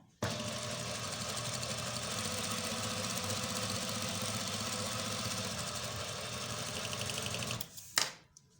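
An electric sewing machine runs steadily stitching a shirt cuff, a continuous fast mechanical whirr with rapid needle rhythm lasting about seven seconds before stopping, followed by a brief clunk.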